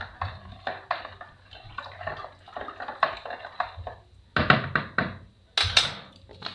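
Chapati dough mixture of flour and a little sugar being stirred in a bowl: irregular close clinks, knocks and soft scrapes in uneven bursts, with no voices.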